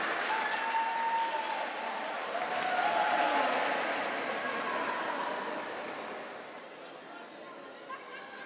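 Sustained applause from a seated audience at a formal solemn session honoring Instituto Teatro Novo, dense and steady clapping that swells near the middle and gradually fades, with faint chatter underneath.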